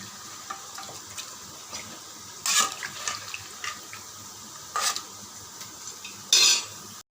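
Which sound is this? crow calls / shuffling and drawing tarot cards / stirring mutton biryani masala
stirring mutton biryani masala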